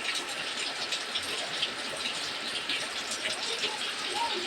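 Steady, continuous rain falling without pause, a dense even hiss of drops that stays at the same level throughout, with no breaks and no clear voices.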